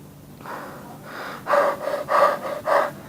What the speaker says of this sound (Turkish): Evet çok fazla nefes alamıyorum onun için öleceğim şimdi de